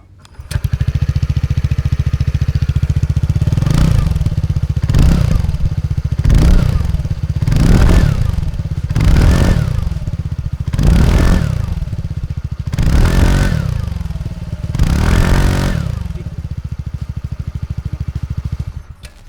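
TVS Ntorq 150 scooter with a 150 cc engine idling, then revved in about seven sharp, evenly spaced blips that fall back to idle between each, loud and close throughout.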